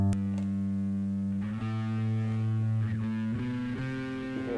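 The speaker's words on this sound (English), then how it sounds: "Next thing we're going to listen to is the drive itself." Electric bass played through a GR Bass Pure Drive pedal on its drive setting, sustained distorted low notes shifting pitch a few times, steady and alone.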